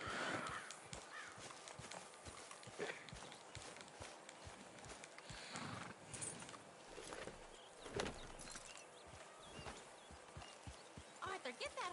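Horse hooves in Red Dead Redemption 2 clip-clop in an uneven stream of soft hits at a walking pace. The hoofbeats sound close and fairly faint, with game ambience and bits of talk over them.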